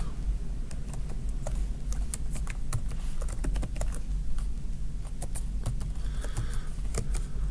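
Fast, continuous typing on a computer keyboard during a programming class session, with dense, irregular key clicks close by and no talking.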